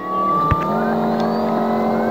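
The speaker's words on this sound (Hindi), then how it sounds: "ये बाइक अच्छी मिल गई मुझे, इसमें घूमूंगा अभी।" A motorbike engine in the video game Dude Theft Wars revs steadily with a gradually rising whine, loud and close, broken by one brief thump.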